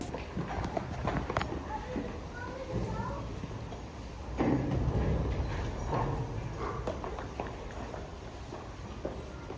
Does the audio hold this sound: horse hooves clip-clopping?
yes